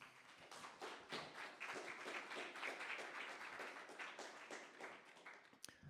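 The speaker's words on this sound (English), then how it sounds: "Please give yourselves a round of applause." A crowd gathered for an Earth Day celebration applauds in a dense, even patter of many hands, fairly faint and distant-sounding, tapering slightly toward the end with no talk.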